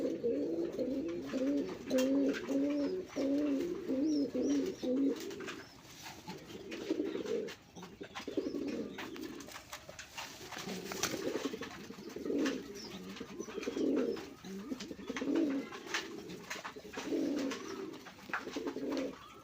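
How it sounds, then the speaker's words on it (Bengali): Native Bangladeshi Rajgolla pigeon male cooing, repeated rolling coos in steady bursts close by, with faint background noise between calls. "বন্ধুরা দেখছেন নরের ডাক কি। এটা হচ্ছে আমাদের দেশীয় রাজগোল্লা কবুতর।"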